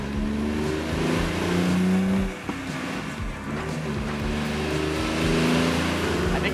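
A small car strapped to a dynamometer revs under full throttle in fifth gear, its engine droning and rising steadily, loud and close, with brief talk under it.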